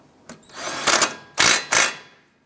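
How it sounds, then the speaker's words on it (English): A power tool tightens a tie rod nut on a 2001-2007 Ford Escape, three short close whirring bursts following a faint click, each lasting a fraction of a second, with no talking. "Go ahead and tighten that down."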